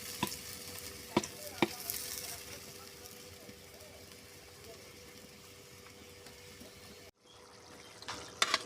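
Lentils being stir-fried in a pan give a soft, continuous sizzle with a few sharp clinks of a utensil against the pan, fairly faint and close.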